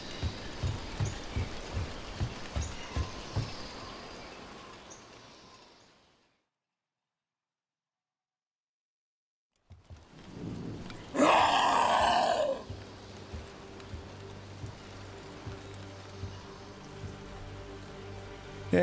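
Rain falls in the video game Dragon Age: The Veilguard as a steady hiss that fades into a brief silence, then returns with a louder, rougher burst before settling back to a constant wash.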